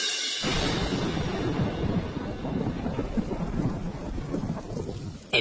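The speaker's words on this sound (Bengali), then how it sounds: "বাইরে বৃষ্টি হচ্ছে, বেশ ঠান্ডা ঠান্ডা চারিদিকটা" Heavy rain pours steadily outside with rolling thunder rumbling through, a dense continuous wash of downpour beginning abruptly and holding loud throughout, no voices present.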